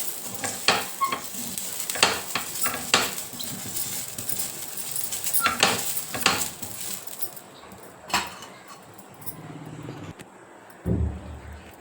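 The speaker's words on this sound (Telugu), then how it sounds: "చాక్కి ఇట్లా చిన్న ఉల్లిపాయ చుట్టుకొని గుచ్చి ఇట్లా రుద్దితే" A small onion skewered on a fork is rubbed across a hot dosa pan, giving a continuous sizzle with scraping strokes and a few sharp clinks, then it quiets briefly near the end.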